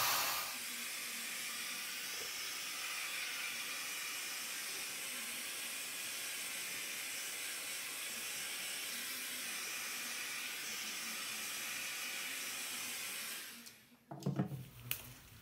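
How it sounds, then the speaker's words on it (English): A cheap Lidl heat gun blows hot air over an acrylic pour painting, a steady, loud, close whooshing hiss that runs unbroken for about fourteen seconds, then cuts off with a few clunks of handling. "I'm gonna use my heat gun, which is a cheap one from Lidl."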